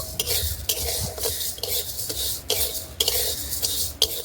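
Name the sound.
stirring sugar in a dry wok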